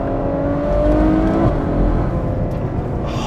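A 650-horsepower Ferrari FF launches hard and spins its rear tires, the engine note rising through a quick rev before easing off, heard from inside the car without talk.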